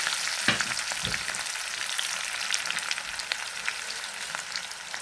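Mustard seeds and small onions frying in hot coconut oil give a close, steady hiss broken by scattered sharp crackles and pops.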